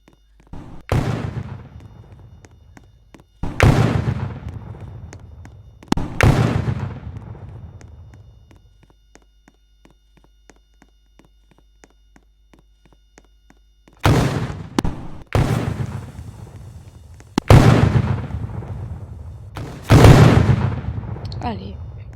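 Firecrackers go off in the video game Fortnite as about six loud booming bursts, each fading in a long rumbling tail, with a quiet gap in the middle and people talking in between.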